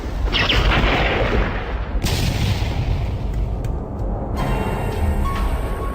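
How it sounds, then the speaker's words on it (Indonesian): A loud, sustained explosive roar with booming rumble and crackling debris, shifting in intensity over several seconds, no voices. "terdengar bunyi ledakan yang sangat dahsyat"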